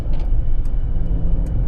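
A 2025 Mercedes-Benz S580 V8 engine gives a steady, loud low rumble throughout, with a few faint high clicks over it and no talking.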